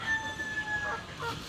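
A native rooster crows once at a moderate distance, a drawn-out tonal call over a quiet, faintly noisy outdoor background.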